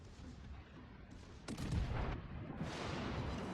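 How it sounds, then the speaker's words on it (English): Battleship artillery fire in the naval game World of Warships: Legends, a heavy main-gun salvo erupting midway as a loud booming blast with a rolling rumble and lingering crackle over steady background game noise. "The first shot on the Emile Bertin"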